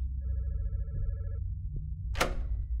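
An old-style telephone bell rings once in a horror video game, a short, close electronic trill, followed by a soft knock and then a sharp thud against a low rumbling background.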